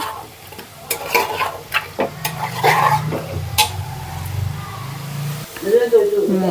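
Ground coriander sizzles and fries in a pan as a utensil stirs and scrapes it, producing intermittent clinks and scraping strokes over a low steady hiss. A person talks over the cooking.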